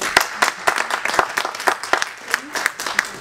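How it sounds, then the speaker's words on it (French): Audience applause for a Cameroonian candidate at a public speaking contest, a sparse, fairly close burst of individual claps with uneven rhythm, no talk over it. "Merci de l'applaudir, s'il vous plaît"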